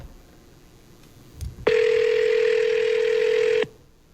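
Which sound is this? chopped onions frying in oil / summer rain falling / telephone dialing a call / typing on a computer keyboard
telephone dialing a call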